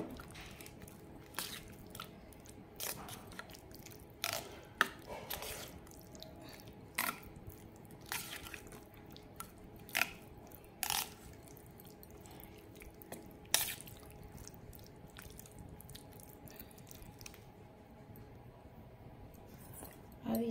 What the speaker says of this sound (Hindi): ये भी पूरा एक पाउच मैंने डाल दिया है। अब इसको हम मिक्स कर लेंगे।